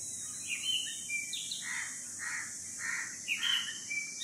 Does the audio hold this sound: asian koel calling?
yes